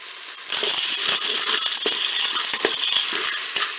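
Dry fusilli pasta pours into a Cookeo multicooker pot as a dense, close rattle of hard pieces clattering against the metal bowl, running continuously for several seconds with no talking.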